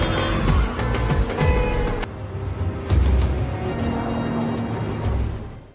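Cars in a tense film chase, with engines roaring, tires skidding and sharp impact bangs layered over dramatic background sound, loud and close throughout.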